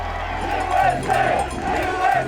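A large crowd roars and cheers in rising waves at a downhill mountain bike World Cup race in Snowshoe, rhythmic surges of voices echoing through a big open space.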